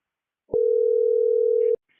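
A single steady telephone tone sounds alone for just over a second, starting and stopping abruptly during a call back, with near silence before and after.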